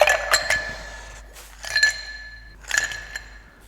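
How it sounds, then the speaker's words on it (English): Ice cubes dropped into a cocktail mixing glass, clinking in three quick bursts of bright, close rattling knocks. "We're going to add ice to our mixing glass."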